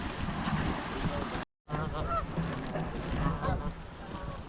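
Geese honk repeatedly near a lake spillway on Lake Erie, loud overlapping calls over choppy, windy water noise, broken by a short silent gap partway through.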